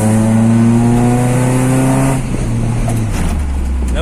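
A Honda-powered Mk1 car on cut springs revs while driving: a loud, close engine drone with strongly harmonic tones that rise steadily, then shift lower as the car changes gear, with road and wind noise underneath.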